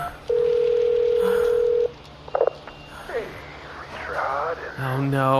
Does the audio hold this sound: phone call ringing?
yes